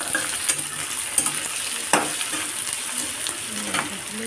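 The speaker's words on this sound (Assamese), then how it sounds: "অলপ ৰঙচুৱা হোৱালৈকে ভাজিব লাগিব" Sliced onions fry in a pan for dried fish chutney, a close, soft sizzle with intermittent scraping and stirring clicks of a spatula, no talking.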